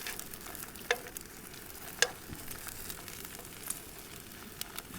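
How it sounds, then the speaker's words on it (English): Soft, steady crackle and hiss of sausages frying in a pan outdoors at a lakeside campsite, with a couple of sharp pops and faint clicks over the low sizzle. "Nothing beats a good sausage sizzle."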